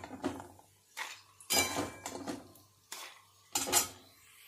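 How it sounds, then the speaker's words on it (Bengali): Fried ginger mixture scraped and tipped from a pan into a mixing jar, several distinct clattering knocks of metal utensil against cookware spaced a second or so apart, close and fairly loud with no talk. "এবার আমি একটা মিক্সিং জারের মধ্যে তুলে নেব এটাকে"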